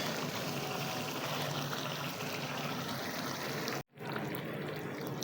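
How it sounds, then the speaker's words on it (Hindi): Water is poured into a pot of aloo beef kofta, a steady close splashing stream that runs almost without a break before a brief pause and resumes. "अब इसमें पानी ऐड कर देंगे।"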